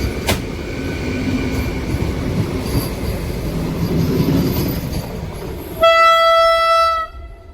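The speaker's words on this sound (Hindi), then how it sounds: "तो वंदे भारत निकल गई, अब चलेगी हमारी ट्रेन" A Vande Bharat express train rushes through a station on a single line with a loud, rattling roar of wheels and carriages, then a sustained horn near the end before it cuts off.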